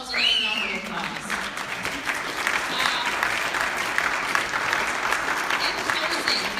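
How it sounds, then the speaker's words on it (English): Applause from a town hall audience at a Pebble Mine meeting, a sustained, fairly close wash of clapping that starts strong and holds steady with scattered louder claps throughout. "So give yourselves another round of applause."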